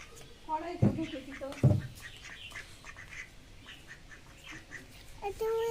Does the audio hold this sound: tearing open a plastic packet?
no